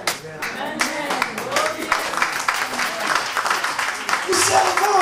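A church congregation claps, with bursts of hand claps rising and falling in intensity, some louder sharp claps near the end, voices mingling underneath.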